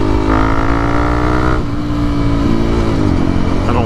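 A Honda CRF300L fitted with a Black Widow exhaust rides along, its loud, close engine note holding a steady drone, then dropping in pitch and rising again as the throttle changes.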